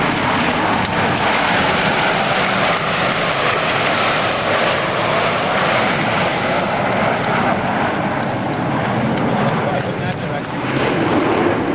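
Blue Angels US Navy jets in diamond formation pass at an airshow in New York in 2003, a loud, broad, continuous roar filling the whole span with steady intensity and faint crowd babble beneath.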